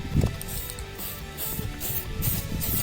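A modified jockey wheel being spray painted: repeated short aerosol hisses in bursts of about half a second, close and moderately loud, separated by brief pauses.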